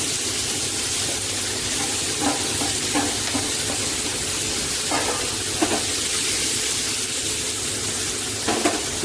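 Paneer slices fry in hot oil in a kadhai, giving a loud, continuous sizzle close by, with a few soft clinks and stirring taps scattered through.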